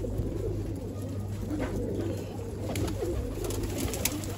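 Soft pigeon cooing rises and falls continuously against a steady low hum and outdoor background noise.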